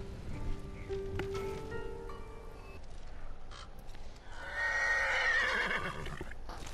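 A horse whinnies loudly in the Ghost of Tsushima video game, a drawn-out neigh near the end set over a game soundscape of music and rustling, with crow-like calls earlier.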